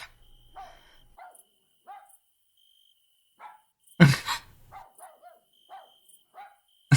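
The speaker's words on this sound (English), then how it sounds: "Someone do something about that dog." A dog barks repeatedly in short sharp yaps spaced across the stretch, with one loud burst in the middle, over a quiet background with a faint electronic tone.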